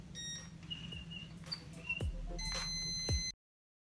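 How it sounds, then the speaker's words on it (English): A few short, high electronic beeps from a laser stud finder locating a wall stud, fairly faint, sound over low hum and scraping handling noises. "this one has a little laser beam and a beep when they hit a stud"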